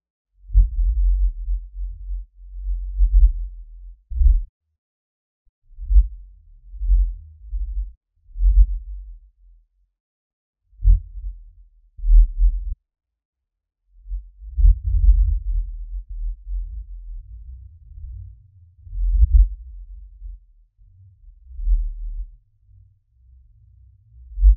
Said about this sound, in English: This is a recording of the sound of Mount St. Helens eruption from 140 miles away.